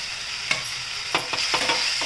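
Carrot and capsicum hit a hot frying pan and get stirred, giving a steady close sizzle with several quick scraping stir strokes spread across the short stretch, no voices.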